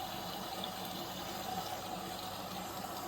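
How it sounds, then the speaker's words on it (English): Indesit washing machine (WMS E15) rinsing on its Rapid 15 program, a steady wash of water sloshing and running, continuous and fairly faint with no talk. "So it's rinsing, as it's indicated on here as well."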